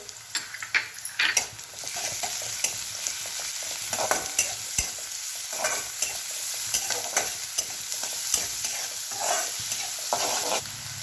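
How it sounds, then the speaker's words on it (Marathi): Garlic frying with onion and green chili in a pan for a village-style tandulja greens dish, a steady close sizzle under repeated scraping stirs of a spoon, with no talking. "कांदा मिरची चांगली परतून झाली की टाकणार आहे लसूण"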